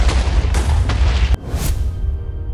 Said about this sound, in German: Diese Kanone ist deutlich stärker, als ich dachte.